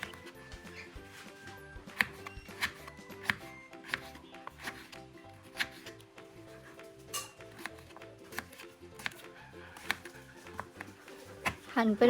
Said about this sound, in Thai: หั่นไปเรื่อยๆ หั่นไป